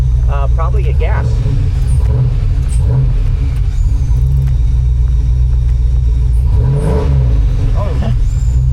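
A car engine fitted with a Holley Terminator X Max fuel injection system rumbles loudly and steadily from inside the cabin, with brief voices over the drone.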